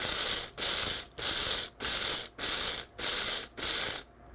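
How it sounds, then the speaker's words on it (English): A blender pulses short-grain rice into grits in seven even bursts of harsh whirring, each cut by a brief gap, close and loud. "you're simply gonna pulse it multiple times"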